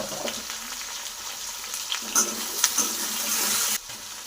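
Potatoes fry in a pan for a Bengali home dish, a close, steady hiss and sizzle with a few sharper clinks and bursts as they are stirred.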